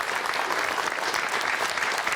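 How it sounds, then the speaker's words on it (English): Studio audience applauding on a live Irish television talk show as charity blood bike volunteers are welcomed, a steady, dense wash of clapping held at full strength throughout. "Give them a round of applause."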